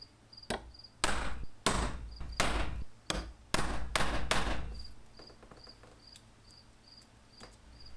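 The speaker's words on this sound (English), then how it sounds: "I'm just going to use a regular center punch here because I want a very deep mark." A steel center punch is struck hard with a hammer to mark metal for a custom DR650 motorcycle camera mount. About eight sharp, ringing blows land in an uneven rhythm over four seconds, then a steady high insect-like whine is left.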